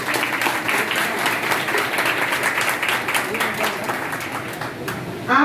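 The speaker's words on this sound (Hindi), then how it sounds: "तो हम चाहेंगे कि आप लोग इनके लिए जोरदार ताली बजाएं" Audience applause fills the room at a gathering of rural health practitioners in Bihar, a steady dense wash of clapping that holds throughout and swells slightly at the end.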